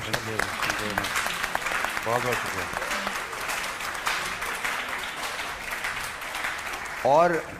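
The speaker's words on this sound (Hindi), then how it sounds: "सो बहुत सारी तालियां" Audience applause for TCF, the school network, at a Bol TV interview, a steady wash of clapping that runs under a voice and swells near the end.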